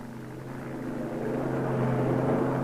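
The propeller engines of C-46 transport aircraft drone steadily and grow louder, a dense throbbing hum that swells toward the end, with no voices.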